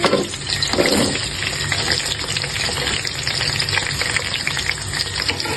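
Three to four chopped onions sizzle and crackle steadily in hot oil as the base for a masala in a keema-stuffed karela recipe, a continuous close frying hiss with no voices.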